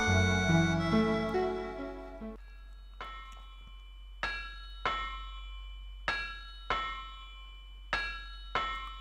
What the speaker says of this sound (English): Why does that sound like church bells?